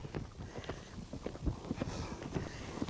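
Horse hooves cantering in a left lead during a riding demonstration, a steady three-beat rhythm of thuds repeating close by, with faint wind and no talk.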